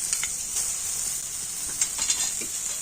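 Ginger paste drops into tomatoes frying in a pan, producing a steady, hissing sizzle close up, with a few soft spatula scrapes and brief bursts of stirring toward the end, and no talking.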